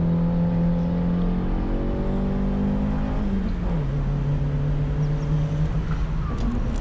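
Race car engine, a Porsche 997 GT3 Cup or Honda CRX, droning steadily on a track at a distance, pitch holding then dropping and rising as it runs through a lap.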